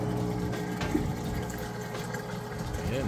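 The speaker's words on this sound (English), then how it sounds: "Draining all that water out nice and fast." Whirlpool washer draining its wash water, a steady pump hum with rushing, gurgling water running out fast, heard up close and continuous.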